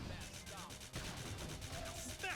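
Rapid bursts of gunfire during a battle in Xenoblade Chronicles X, sharp cracks and impacts layered over busy combat effects and music, fairly quiet and dense throughout.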